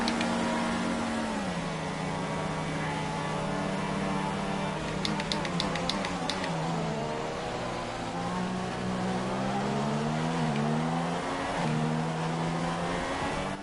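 A Formula 1 car in the F1 2016 racing game at Bahrain's circuit, its engine droning loud and continuous as the pitch dips and climbs through gear changes, with brief rattling clicks as it bounces over kerbs.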